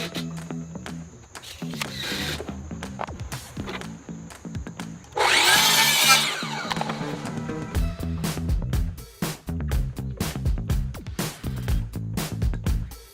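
A saw cutting wood to length for a miter joint in a backyard build, with a loud burst of cutting near the middle amid surrounding knocks and handling noises.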